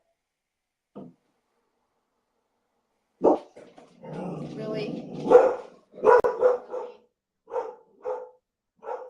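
Several dogs bark and growl in a burst of repeated yaps, mixed with people talking and laughing nearby.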